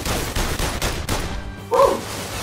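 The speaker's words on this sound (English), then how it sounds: "Y'all got machine guns. I only got a pistol." Rapid gunfire from machine guns in the PlayStation VR shooting game London Heist, a loud, dense run of repeated shots that breaks off briefly near the end.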